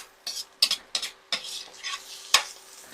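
Food stirred and charring in a wok on induction heat, a series of sharp scraping stir strokes with bursts of sizzle between them, close and fairly loud.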